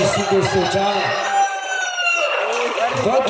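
A voice imitates a rooster's crow during a Ramlila performance, loud and drawn out with a wavering pitch, set against other sounds underneath.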